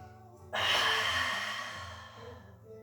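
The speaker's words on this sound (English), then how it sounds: "A nice big breath, breathing out into the chest, thoracic breathing, exhale, everything engaged, keep going." A deep thoracic breath during a pilates exercise with a bender ball comes as a single loud, close exhale that starts suddenly about half a second in and slowly fades over the next two seconds.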